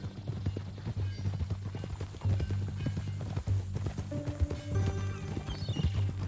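Horse hooves clip-clop steadily through a Red Dead Redemption 2 game scene, with a brief horse whinny and tonal game music layered over the rhythmic footfalls at close range.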